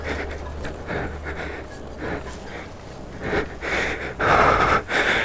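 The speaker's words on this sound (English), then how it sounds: "it's gonna be some heavy breathing" Heavy, ragged breathing and panting from a rider just off an electric bike climb on the way home, close and loud, swelling into harsher gasps near the end.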